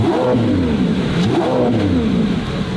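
A 1,000 HP Lamborghini Revuelto revs loudly up close, intake roar rising and falling in repeated sweeps with a deep burbling exhaust underneath, steady and alone without talk.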